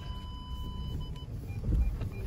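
A Volkswagen Passat with an automatic gearbox pulls away slowly, giving a low steady engine hum with faint tonal whines and a brief swell of low rumble near the end, and no one talking.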